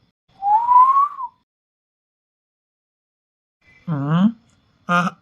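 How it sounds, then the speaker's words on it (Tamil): One person whistles a single sustained, slightly rising note outdoors at night, followed after a pause by a short burst of close speech. "சரி, நான் விசில் அடிக்கலாம்."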